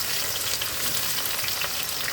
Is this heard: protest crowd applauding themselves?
no